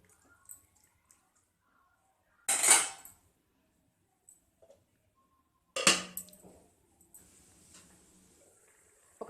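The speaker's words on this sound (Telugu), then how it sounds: "మూత పెట్టి ఉడికించుకోవాలి." A metal lid is set onto a pot of bottle gourd tomato curry, giving two separate clattering clinks with a faint rattle after the second, in a quiet kitchen.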